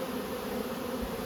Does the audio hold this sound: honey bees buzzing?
yes